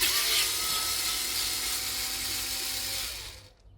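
Steady power-tool whirring, likely a cordless driver undoing screws on a Suzuki Maruti 800 carburetor, runs close and fairly loud for about three seconds before stopping abruptly.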